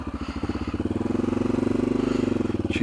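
A dual sport motorcycle idles on choke at a campsite, a close, steady rapid putter of firing pulses lasting a few seconds before a brief clatter at the end.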